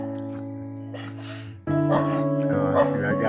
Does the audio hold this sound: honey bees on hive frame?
no